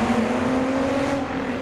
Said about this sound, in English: Sounds like the E46 is doing something on the roadside now. Sounds like a burnout.